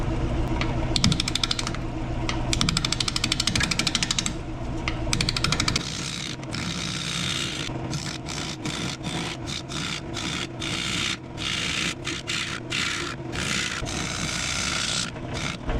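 A wood lathe spins an unbalanced bowl blank cut from firewood at low speed, a steady rubbing, scraping whir with rapid rhythmic ticking from the tool catching the uneven wood, continuous and fairly loud.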